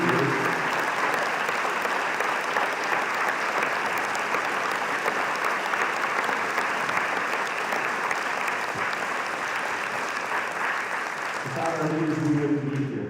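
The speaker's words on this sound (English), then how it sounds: "stand so we can recognize them all for their courage with a round of applause" Sustained applause from an audience honoring pastors at a pro-life public meeting, loud and steady for about eleven seconds before fading as a voice begins speaking at the end.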